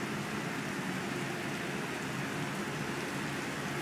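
Rain falls in a soft, even wash of patter, quiet and continuous with no voices.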